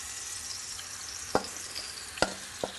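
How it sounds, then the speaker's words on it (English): Creamed corn sizzles steadily in a hot pan, a constant crackling hiss with a few sharp clinks of a utensil against the pan. "you should hear a little sizzle when this goes in"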